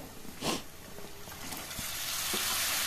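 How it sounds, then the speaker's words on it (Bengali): Chopped tomatoes dropped into sizzling masala in a cooking pan bring a brief rushing splash and then a steady close frying hiss, with a few small taps. "এবারে এর মধ্যে দিয়ে দেবো ওই কেটে রাখা টমেটোগুলো।"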